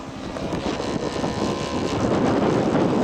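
Scale model aircraft engine running at full power during a windy scale aircraft show, a steady loud drone with wind noise, continuous throughout.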